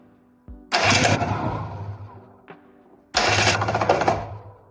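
A small motor engine, just fitted into a frame, is started twice: each attempt bursts into a loud, rough running roar for a couple of seconds, then dies back, with a brief click between the two starts.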